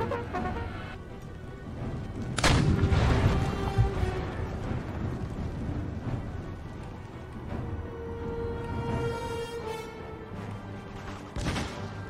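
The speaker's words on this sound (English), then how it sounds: "Our artillery to lob shells over onto the demi cannons" Artillery firing shells in Empire: Total War, a deep booming report and rumble followed by scattered distant battlefield cracks and thuds, with a later sharp blast near the end.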